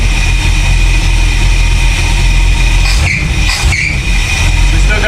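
An older car's engine idles after a swap from a two-barrel to a four-barrel carburetor, a loud, continuous, even rumble close to the microphone, with a faint squeal riding on top throughout.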